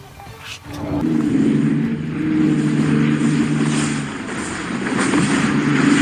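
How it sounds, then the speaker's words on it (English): A Socata Trinidad GT light propeller aircraft crash-lands without its landing gear at Megève Altaport in France, heard as a loud, sustained engine and scraping roar after a brief quieter start, steady and close throughout. "A Socata Trinidad GT aircraft crash-landed at Megève Altaport in France due to the pilot forgetting to deploy the landing gear."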